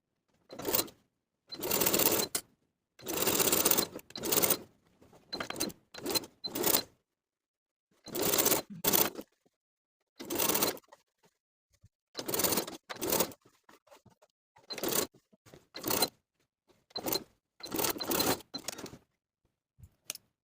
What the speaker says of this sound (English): I'm going to sew in line with the pressed crease all the way around.